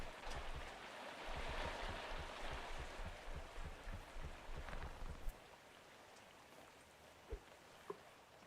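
Rain falls in the fishing video game Webfishing as a soft, steady hiss of drops, faint and continuous, over a low pulsing rumble that fades partway through, followed by a few isolated knocks.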